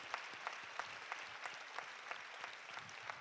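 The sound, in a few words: audience applauding the speakers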